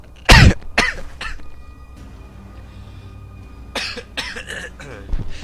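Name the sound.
cough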